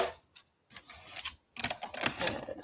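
An embossing folder cranks through a manual die-cutting machine, giving bursts of close mechanical clicking and grinding broken by short pauses, with no talking.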